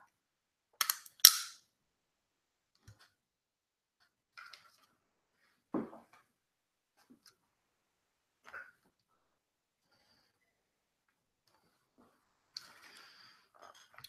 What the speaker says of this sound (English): having fun playing with my gun, my toy gun